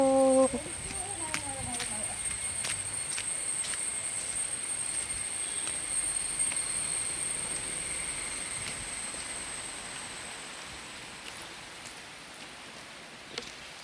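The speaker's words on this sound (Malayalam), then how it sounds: "മഴ മഴ ഓടിക്കോ" Steady, dense hiss of rain falling, continuing evenly throughout, with a brief voice at the very start.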